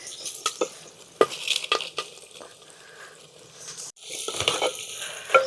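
Vegetables fry in plenty of oil in a pan at an outdoor farm kitchen while a spoon stirs them, with bursts of sizzle and scraping strokes, a brief pause, then more vigorous stirring.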